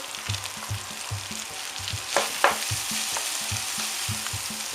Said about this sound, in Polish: Na patelni rozgrzewamy tłuszcz, dodajemy mięsko, przesmażamy, dodajemy cebulkę